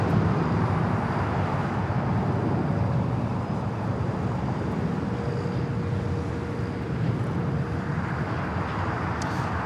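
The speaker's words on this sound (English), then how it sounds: "That is Freedom 1 taking off 24 left to San Jose, California, flight 1652." A jet airliner roars steadily as it takes off from runway 24 left at LAX, a broad, continuous rumble heard from a distance without any talk.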